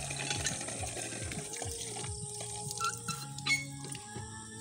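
Water running and splashing into a container during hand laundry, with squeaky knocks and bumps as it fills, fairly close and continuous with no talking over it.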